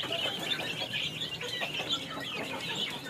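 Backyard native chickens and chicks, some around three months old, cluck and peep continuously in a busy, overlapping chorus close by, with no voices.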